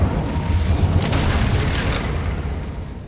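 Incendio fire spell explosion in Hogwarts Legacy, a loud rumbling boom with a crackling, roaring burst of flame that slowly fades over a few seconds, no talking.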